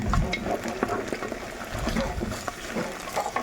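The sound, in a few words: stirring tomato paste frying in a pan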